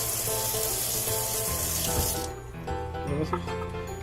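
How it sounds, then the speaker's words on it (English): Running water streams loudly into a bell pepper to rinse out its seeds. The flow cuts off partway through and is followed by wet splashes and handling noises. "pour water. Just to rinse out whatever extra seeds you might have on the inside"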